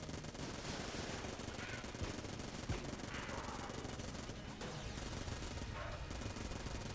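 A Vulcan Cannon in Enter the Gungeon fires a continuous, fast rattling stream of shots. The sound is faint and steady, with no talking over it.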